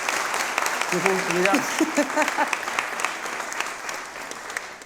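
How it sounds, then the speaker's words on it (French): A crowd applauds a group of Gouro people, with dense clapping that fades toward the end and a voice speaking briefly over it. "Applaudissez les gourous."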